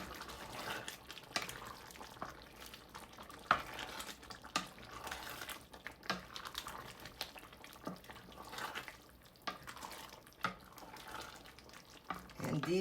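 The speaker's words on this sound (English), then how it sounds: "We're gonna stir this." Fresh parsley, coriander and squeezed lemon juice stirred into a Moroccan tagine, with soft clinks and scrapes of utensil against cookware and a faint background hiss, close and moderate in level.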